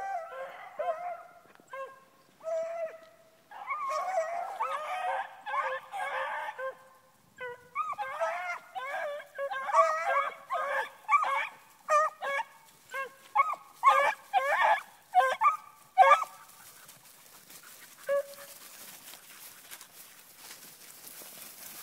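Young hunting dogs out in a field with a freshly shot rabbit, whimpering, yipping and barking in quick bursts that grow denser and then fade to quiet near the end.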